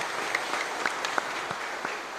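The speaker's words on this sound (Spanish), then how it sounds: "Fuerte aplauso para el Señor resucitado." Quiet applause from a church congregation at an Easter Sunday Mass, steady clapping at a distance that holds for a couple of seconds.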